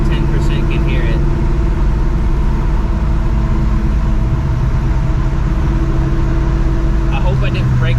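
A supercharged 2004 Mustang GT drones steadily throughout, a loud close engine and supercharger whine that never lets up, with a voice talking over it.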